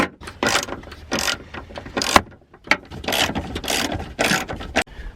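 A ratchet turns seat bolts in a cramped Saturn S-Series car interior, with quick bursts of rasping clicks broken by short pauses as the handle is reset, close and fairly loud, no talking.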